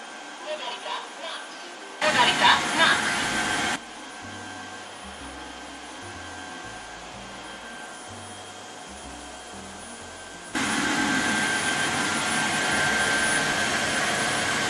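A Tineco S6 Stretch cordless floor cleaner runs with a steady whirring motor hum and a louder suction surge, cleaning spilled noodles, milk, ketchup and pudding off a floor, with low background sounds throughout.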